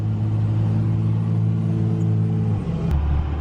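A second-generation pickup truck drives along, its engine giving a steady low rumbling drone from inside the cab that shifts slightly in pitch near the end, with no talking.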